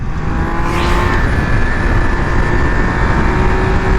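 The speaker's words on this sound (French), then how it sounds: "ce moteur quoi, je suis en 3ème, ça reprend tout du long quoi" A 2022 Triumph Speed Triple 1200 RR engine pulls steadily under acceleration in third gear, a loud continuous drone with rushing wind noise and no voices.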